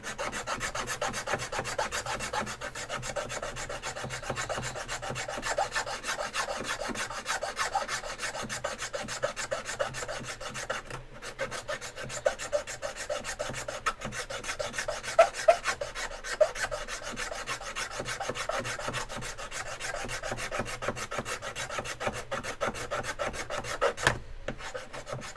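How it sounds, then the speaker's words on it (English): Wood being filed and sanded by hand on a build project, a steady close rasping and rubbing that runs continuously with a rhythmic scrape, alone without talk. "So now we can kind of start filing and sanding to where we need to be."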